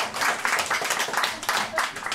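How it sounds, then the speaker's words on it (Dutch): An in-store concert audience at Wim's Muziekkelder claps in a short burst, the hand claps bunching into uneven surges that rise and fall over a couple of seconds at close range. "Ja, allemaal graag veel applaus op jullie."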